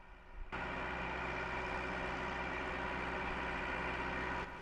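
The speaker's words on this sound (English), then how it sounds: "A tractor!" Tractor engine running nearby on a country road, a steady low mechanical drone that starts abruptly and holds at an even level for several seconds before cutting off.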